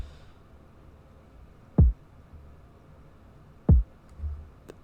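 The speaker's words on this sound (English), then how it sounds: "And yeah, and then we have a kick," A kick drum sample in a pluggnb beat, two punchy low thumps spaced about two seconds apart with a softer low bump after, each decaying quickly with no voices.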